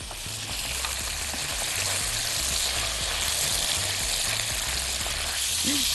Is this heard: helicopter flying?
no